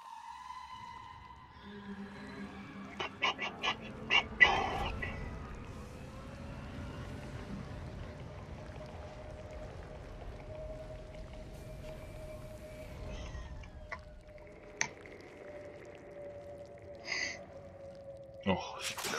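A cat gives a few faint, drawn-out meows in a quiet room while a Mass Effect 2 game session plays softly, with occasional clicks and a steady low tone.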